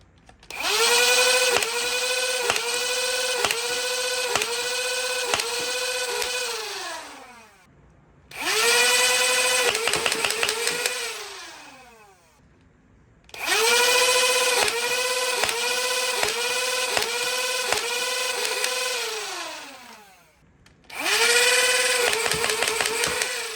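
A Dart Zone Venom Pro foam dart blaster fires in four long motorized bursts, each a loud whirring rattle of rapid shots that winds down before a short pause.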